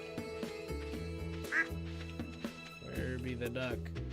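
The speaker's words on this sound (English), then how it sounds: "The duck." Video game duck in Stardew Valley gives a few distinct quacks over looping background game music, with a person talking in between.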